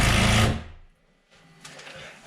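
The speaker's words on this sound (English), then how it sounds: "if I put a couple of screws in the bottom, it'll stay put" A power driver whirs loudly for half a second, driving screws into the bottom of a mudroom board during a home build, then cuts out, leaving a short pause and quieter handling noise.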